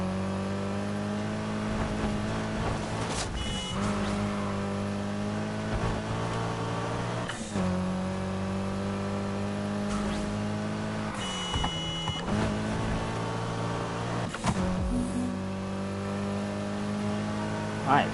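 Race cars accelerate during an NFS Heat video game street race, with steady, loud engine drone and repeated rising rev sweeps and gear shifts throughout.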